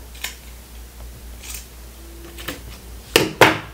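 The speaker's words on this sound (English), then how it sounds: "So now I'm just going to go ahead and trim away the excess." Scissors trim excess fabric from a half-scale dress form, a few sharp snips scattered over quiet, with two louder cuts near the end.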